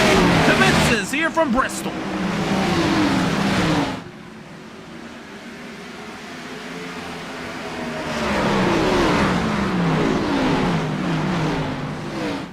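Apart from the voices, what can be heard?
stock cars racing at Bristol in iRacing video game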